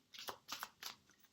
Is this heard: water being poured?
no